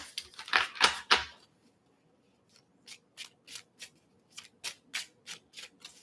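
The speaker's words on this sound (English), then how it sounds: "So now I'm going to shuffle these up a few times." A deck of tarot cards is shuffled by hand: a dense flurry of papery riffling at first, then, after a short pause, a steady run of about a dozen short, crisp shuffling strokes, close and quiet, with no talking.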